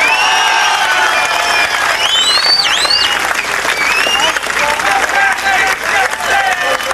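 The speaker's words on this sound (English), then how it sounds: "I think another round of applause for Brian Kimwall." Loud, sustained applause from a large crowd at a race finish, with cheers and whistles rising over the dense clapping throughout.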